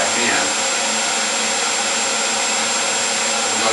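The spindle motor of a Tormach PCNC 1100 mill, turning at 4,000 RPM with the spindle itself still, gives a steady loud whine and hiss with an even, unbroken drone from nearby.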